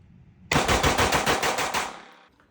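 Staccato XC 2011 pistol firing a fast string of about eight or nine loud, closely spaced shots, each crack ringing into the next before fading out.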